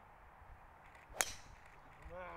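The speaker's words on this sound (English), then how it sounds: "Mark hitting the tee shot." A golf driver strikes a tee shot at an amateur tour championship, a single sharp, bright crack in the middle of quiet outdoor ambience, followed by faint voices starting up.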